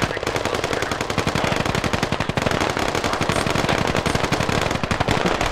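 Dense, continuous machine-gun fire in a military video game operation, with rapid bursts from several guns overlapping into a loud, unbroken crossfire.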